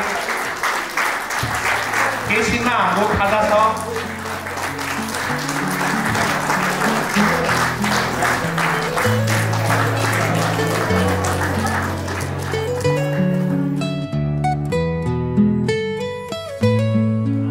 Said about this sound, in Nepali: लगातार ताली बजाउनु होला।